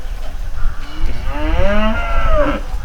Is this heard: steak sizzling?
no